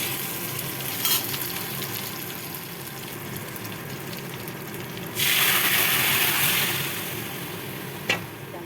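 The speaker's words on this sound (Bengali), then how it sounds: "এবার ডালটা ঢেলে দেবো।" Dal for a bitter vegetarian dal poured into a hot pan with ginger paste, a constant sizzle that surges into a loud hiss midway, with a couple of sharp spoon knocks.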